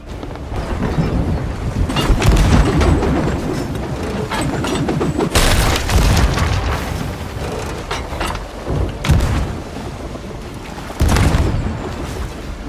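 Ship cannons fire in a Sea of Thieves naval battle: several heavy booming blasts burst out at irregular intervals over a continuous loud, rumbling wash of sea and rain-like noise.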